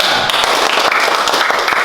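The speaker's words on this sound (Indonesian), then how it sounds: "Oke, tepuk tangan." Classroom group applause, dense steady clapping from many hands close by, continuing throughout without pause.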